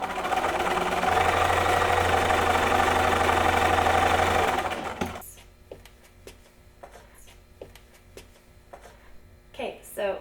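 A sewing machine runs steadily while quilt pieces are sewn together, a continuous close mechanical hum that stops halfway, followed by quiet handling clicks and rustles.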